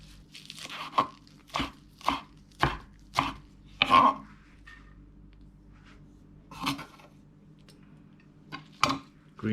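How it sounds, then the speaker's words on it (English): A knife chops cilantro on a board in crisp, close strikes. A quick run of six cuts comes first, then a pause, then a few more chops, with no talk over them. "cut to small pieces, like that. Same thing with cilantro."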